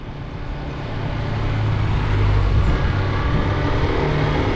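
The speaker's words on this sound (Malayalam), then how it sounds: "അപ്പോൾ ടാറിങ് വണ്ടിയൊക്കെ താഴേക്ക് അങ്ങനെ കടന്നു പോകുന്നുണ്ട് കേട്ടോ" Road-tarring vehicles roll past on a rural village road in Idukki, Kerala, a steady engine rumble that swells as they draw nearer and holds close and loud.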